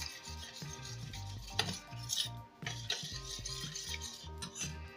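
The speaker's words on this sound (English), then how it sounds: "You mix it together, mix it thoroughly." Aloe vera hair cream being mixed thoroughly in a container, with repeated close scraping and stirring strokes and light utensil clinks in an uneven rhythm and no talking.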